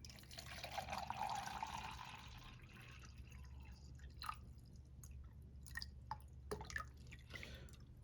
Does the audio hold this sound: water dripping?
yes